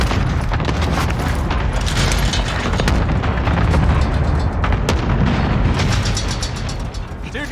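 Cluster strike in Call of Duty Warzone, a dense, loud barrage of overlapping explosions and booming impacts rumbling continuously for several seconds before easing slightly at the end.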